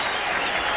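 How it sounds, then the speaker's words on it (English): A boxing crowd at Caesar's Palace gives a standing ovation after a middleweight fight, dense, loud, continuous clapping and cheering filling the whole moment. "The crowd comes to its standing ovation, Tim. Standing ovation."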